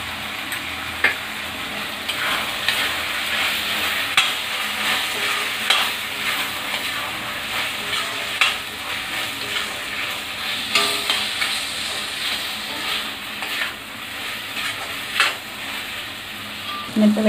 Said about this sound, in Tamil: இந்த வெங்காய தக்காளி நல்லா வதங்கிடுச்சு.